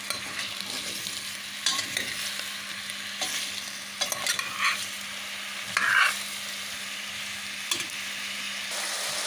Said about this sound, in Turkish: Şu an tencerede soteliyoruz.